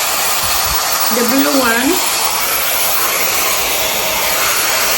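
A hair dryer on its cool setting blows a loud, steady broadband whoosh throughout, with a brief spoken phrase over it.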